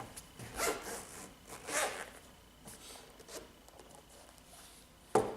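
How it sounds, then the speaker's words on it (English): A zipper being drawn open on a Nintendo Switch Pro carrying case: several quick, close rasping pulls in short bursts, separated by brief pauses, with a sharper final tug at the end. "Just gonna unzip it right here."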